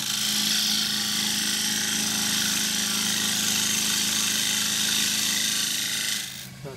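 A wood lathe spins steadily at around 1600-1700 RPM while a board is trued up for a chuck collar, a loud continuous whirring hum with a faint tool rub that drops off at the very end.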